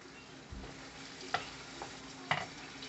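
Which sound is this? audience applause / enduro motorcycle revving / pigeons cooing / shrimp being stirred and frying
shrimp being stirred and frying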